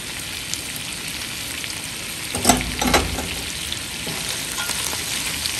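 Carrots going into a hot frying pan for sotanghon guisado, a loud continuous sizzle with a sharper burst and clatter as they land and are stirred.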